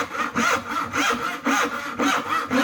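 A hand saw cuts a dovetail in a wooden board, with steady rhythmic back-and-forth rasping strokes, about five close strokes at an even pace.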